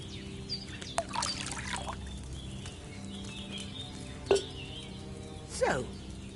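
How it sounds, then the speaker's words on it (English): Wine is poured from a pitcher into a cauldron in Kingdom Come: Deliverance II, a faint, soft trickle and splash set low against quiet ambient background with a few small clinks. "So, what did you pour in there? Wine, of course."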